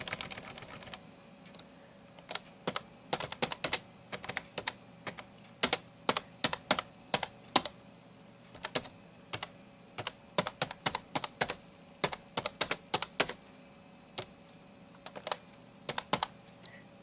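Keys on an NEC Versa 6030x laptop clack up close in irregular bursts, quick clusters of crisp taps separated by short pauses, with no talking.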